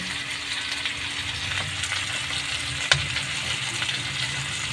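Tomatoes sizzling as they hit a hot pan for Ilocano pinakbet, a steady close frying hiss with a soft clink partway through, no talking.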